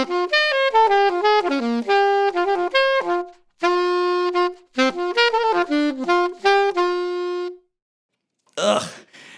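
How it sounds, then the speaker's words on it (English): Saxophone played with a pinched reed, giving a thin, shrill, weak tone: a run of sustained, slightly sharp notes and short phrases, played close and alone, ending with a brief groan-like vocal noise. "you're pinching the reed down, deadening the sound, and getting a very weak, shrill, and thin tone"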